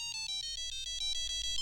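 A mobile phone rings for an incoming call in an Indian TV drama scene, a faint electronic ringtone of short repeating melodic tones with a steady pulsing rhythm and no talking.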